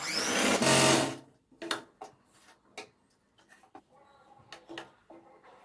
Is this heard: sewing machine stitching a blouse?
yes